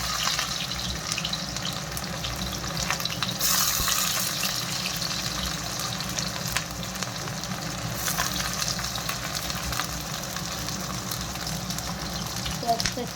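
Onion fries in hot oil for Chinese noodles, giving a steady, dense crackling sizzle that runs continuously with a few louder bursts.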